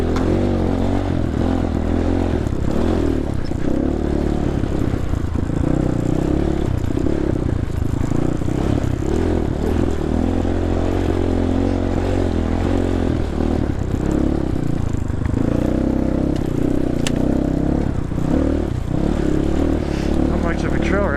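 A dirt bike's engine drones steadily and loudly on a rough, overgrown trail, holding a continuous rumble throughout with a voice talking over it.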